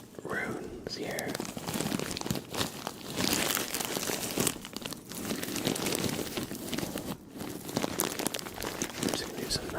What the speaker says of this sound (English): I'm just gonna do some nice deep crinkles.